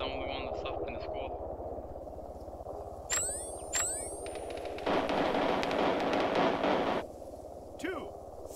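Gunfire in the Arma 3 military shooter, a few sharp distant shots followed by a sustained burst of automatic fire lasting about two seconds, set against constant background noise and game chatter.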